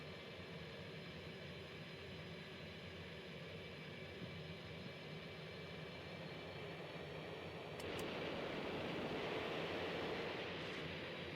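An F-18 jet engine held at throttle in the X-Plane VR flight game gives a steady, broad roar that swells louder near the end, with two brief clicks, no talk.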